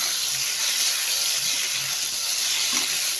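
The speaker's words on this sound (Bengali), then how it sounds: "দেখো আলুটা আর ফুলকপিটা ভালো করে ভাজা নিতেছি" Potatoes and cauliflower fry in hot oil, giving a steady, fairly loud broadband sizzle that holds throughout without pause, with faint low knocks of stirring underneath and no talk.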